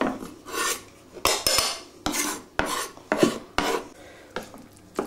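A spoon scrapes and rasps through a thick minced meat moussaka mixture with tomato puree and chopped fresh mint in a series of about eight rhythmic strokes, close and clear with no voices.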